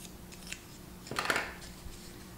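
Scissors make a quick, quiet snip through paper for a scrapbook album, a single short cut in an otherwise calm indoor room.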